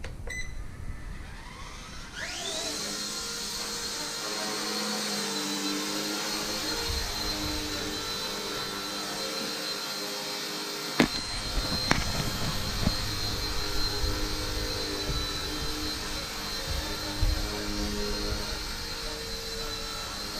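An RC Era C138 Bell 206 remote-control helicopter spools up after a short quiet start, its rotor and motor settling into a steady high whine that stays loud and close, with a couple of faint clicks partway through.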